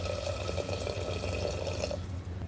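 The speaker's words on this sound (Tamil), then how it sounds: "சுடு தண்ணி சேர்த்துக்கிறேன்." Hot water pours steadily into a pan of sautéed onions with a soft splashing hiss, then cuts off near the end.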